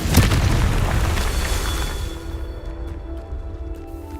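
Confringo fire spell blast in the video game Hogwarts Legacy, a single loud booming explosion that rolls off into a fading rumble and faint crackles.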